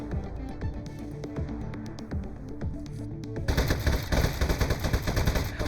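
Desk-mounted gun firing in the video game Aperture Desk Job, a rapid string of sharp shots over background game music, thickening into a denser, louder volley in the final seconds.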